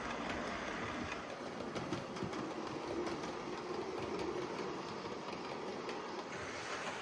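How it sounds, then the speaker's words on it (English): Miniature trains clatter and hum along the rails nearby, a constant whirring drone with light rhythmic clicks throughout. "Now we should end up with trains passing each other in just a minute."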